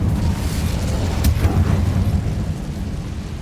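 An Incendio fire spell in Hogwarts Legacy bursts as a loud, rumbling blast with a sharp crack about a third of the way in, then continues as a steady roaring whoosh without talk.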